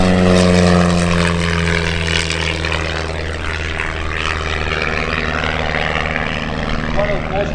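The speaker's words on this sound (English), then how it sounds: "One of the most prolific aircraft designs, the Band series, the RV-8A." A Van's RV-8A sheet-metal homebuilt aircraft runs its propeller engine at EAA AirVenture Oshkosh, a steady droning hum with a low harmonic whine holding loud and close throughout, with crowd noise mixed in.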